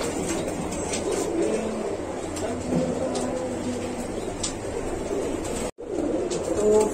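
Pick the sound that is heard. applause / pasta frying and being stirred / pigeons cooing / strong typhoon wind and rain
pigeons cooing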